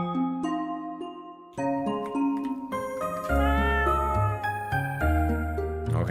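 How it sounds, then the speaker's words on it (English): Cats meow in the RPG Maker game Rakuen, with repeated tonal mewing over game music whose layered notes and deep bass swell partway through, with no talk. "Okay, cat noises."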